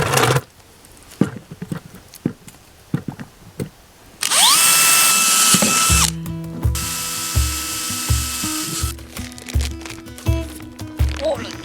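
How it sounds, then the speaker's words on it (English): A power drill bores drainage holes into an upturned plant pot, its high whine rising and holding for several seconds, followed by a second longer stretch of steady drilling with clicking and knocking, set after a run of scattered taps and handling sounds. "I always put them upside down and I drill the holes,"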